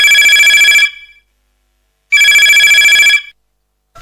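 A telephone for an incoming caller to a radio phone-in folk song programme rings twice. Each loud electronic trill lasts about a second, with a silent gap between the rings, and no other sound is present.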